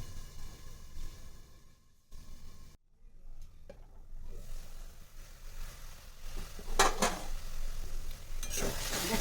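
Egg baingan bharta, a mashed eggplant dish, sizzles in a pan while being stirred, with scraping strokes and a few louder clatters toward the end.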